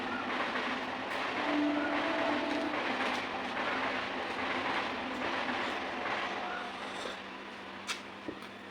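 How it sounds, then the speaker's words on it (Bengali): A train rumbles steadily past, a continuous broadband roar with faint rail clatter, fairly close and loud throughout, with a few sharp knocks near the end. "ট্রেনের আওয়াজ ভালো লাগে দুই মিনিট তিন মিনিট পরে পরে ট্রেন যায়"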